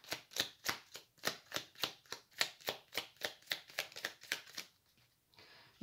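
Tarot cards being riffle-shuffled close up, a rapid run of about twenty crisp, evenly paced riffles that stop abruptly near the end, with no talking.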